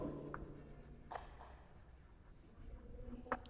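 Writing on a board during an English grammar lesson, heard as soft, quiet scratching strokes with a few sharper taps close by and no voices over them.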